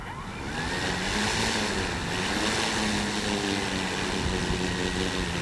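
A Hangar 9 Valiant 20cc RC airplane's motor and propeller drone steadily overhead, a buzzing whine that rises and falls slightly as it flies, with wind in the background.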